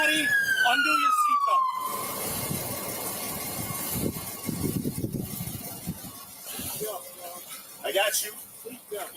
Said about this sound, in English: Shut off that siren.